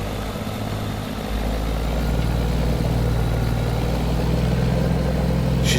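An old Ruda RVM 3500 truck's engine runs with a low, heavy rumble that builds and stays steady as the truck starts moving. Loud and close, with no talking.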